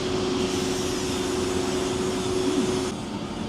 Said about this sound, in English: I hear some machinery whirring